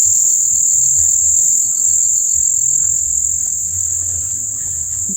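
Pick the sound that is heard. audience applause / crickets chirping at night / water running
crickets chirping at night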